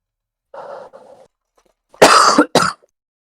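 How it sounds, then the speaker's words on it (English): Two loud, harsh coughs in quick succession, the first long and the second short, close to the mic after a soft muffled vocal sound, in a casual indoor setting while building Lego. "That was a cough."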